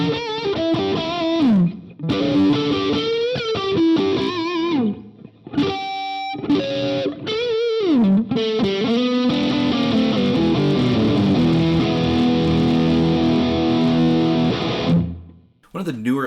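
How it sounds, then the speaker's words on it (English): A Donner DLP-124 electric guitar played through heavy, thick distortion with a beefy low end, loud riffs and sustained chords, with a few short pauses between phrases. "just a really thick, beefy kind of bottom end distortion"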